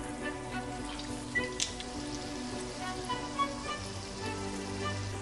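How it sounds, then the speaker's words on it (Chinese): Bean paste buns deep-fry in oil over low heat, a steady soft sizzling hiss with scattered tiny pops and crackles running continuously, close and moderate in level. "翻面继续小火慢炸"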